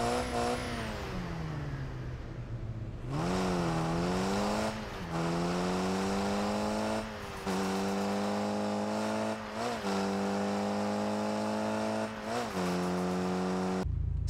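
Engine of a 9th-generation Mitsubishi Evolution in the Car Parking Multiplayer game: a loud, close, continuous droning engine note that rises and settles through several rev swells and gear-like shifts, with a steady idle at first.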